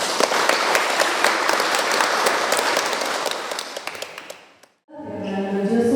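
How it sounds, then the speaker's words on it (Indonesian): A congregation applauds a newly married couple after a Catholic wedding, dense loud clapping that gradually thins and fades out, followed by a sudden silence and then music. "Kita beri tepuk tangan."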